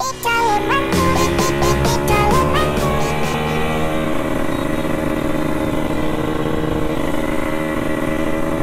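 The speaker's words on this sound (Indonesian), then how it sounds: "Jadi motor Yamaha TCTM ini cuman ada satu di Makassar" A Yamaha motorcycle ridden in Makassar, its engine loud and close, revving up through several quick rising pulls and then settling into a steady, even drone at speed.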